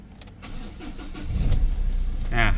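A Ford Ranger MC pickup engine cranks briefly and catches, rising from starter whir into a low rumbling idle, close by, with a voice faintly present.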